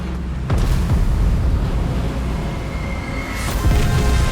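Naval gunfire from battleships exchanging salvos in the Bismarck battle, deep rumbling booms with sharp onsets at the start and near the end, over a continuous heavy low roar.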